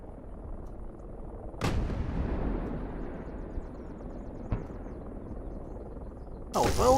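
Gunfire in the DCS flight simulator game, a few sharp booming shots spaced seconds apart, each followed by a long rumbling decay over a low background hum.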